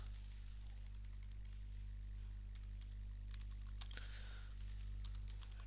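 Keys clatter in short irregular runs on a computer keyboard while typing a Windows 10 logon message, light and close over a steady low electrical hum.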